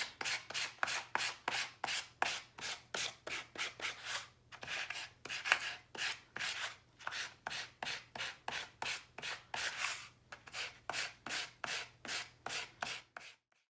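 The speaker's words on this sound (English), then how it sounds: "you can take a little bit of sandpaper and gently rub that around the edge" Sandpaper rubbed around the edge of a paper craft kit bag in close, rhythmic back-and-forth strokes that come in bursts, briefly pausing about a third of the way through, over a faint low hum and with no talking.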